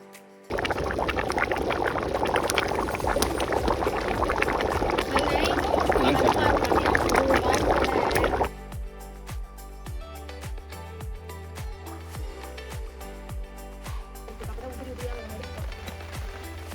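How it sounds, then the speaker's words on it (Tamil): Three kilograms of soaked basmati rice tipped into a large pot of boiling water for chicken biryani, a loud sustained rushing pour that cuts off abruptly, leaving quieter bubbling and clinks. "அரை மணி நேரம் ஊற வச்சு அந்த அரிசியை இப்போ போடுறோம்."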